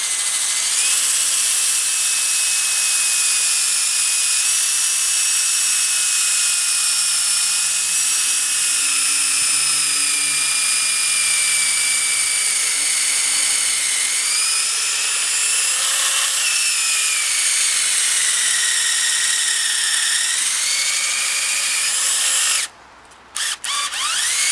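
A power drill bores an upward-angled tap hole into a maple tree, whining steadily and loud with shifting pitch for about twenty seconds before stopping abruptly near the end.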